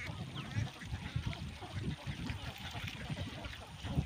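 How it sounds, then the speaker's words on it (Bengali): A flock of egg-laying ducks kept for sale quacks continuously at close range, with overlapping calls forming a busy, unbroken chatter. "এই হাঁসগুলো বিক্রি করতে হবে।"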